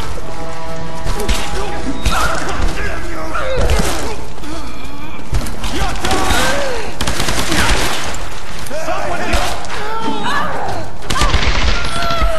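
Gunfire in the Tomb Raider game, sounding as shots, crashes and booms throughout a dense, loud battle mix, with someone talking over the action.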